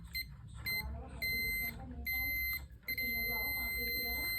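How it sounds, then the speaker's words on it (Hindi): A multimeter set to its continuity range beeps as its probes touch a low-value resistor, giving several sharp, bright tones of varying length separated by short gaps, with someone talking underneath. "ये लो वैल्यू रेजिस्टेंस बीप देगा"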